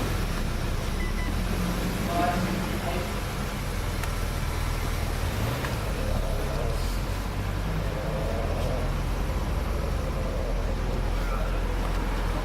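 A 2006 MINI, just after a cylinder head reinstall, drives out with a steady, continuous engine and road rumble at close range, holding an even level throughout.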